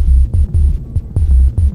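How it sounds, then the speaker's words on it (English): A Dreadbox synth produces random percussive sounds: deep throbbing thumps in an irregular pattern with a thin high whine over them, loud and close, no voices. "Next, I'm going to make some random percussive sounds using this Dreadbox synth."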